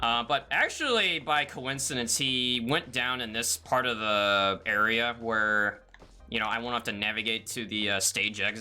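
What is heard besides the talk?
No everyday noises stand out.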